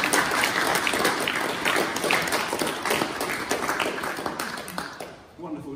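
A congregation at a bell-blessing service in St Julitta's Church, Cornwall, claps in a lively, continuous round of applause that gradually eases and trails off near the end.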